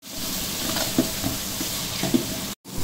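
Onions and chopped tomatoes sauté for chicken biryani in a pan, giving a steady close sizzle with soft stirring scrapes, two slightly louder spoon knocks, and a sudden brief cutoff near the end.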